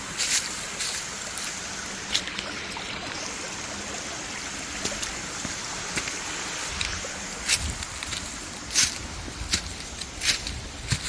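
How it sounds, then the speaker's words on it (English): A small waterfall on a creek gives a continuous rushing, trickling wash nearby, with occasional sharper splashes and thumps over the steady flow and no talk. "There's a little waterfall."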